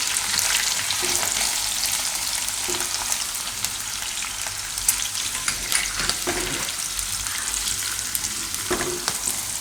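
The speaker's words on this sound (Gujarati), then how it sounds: "થોડીક વાર તેલમાં આ રીતે એને ફેરવી લેવાનું." Green chilies, ginger and green turmeric frying in hot oil while being stirred, a loud continuous hiss and crackle close up, with occasional spoon scrapes against the pan and no voices.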